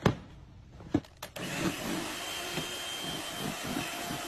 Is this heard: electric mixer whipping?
yes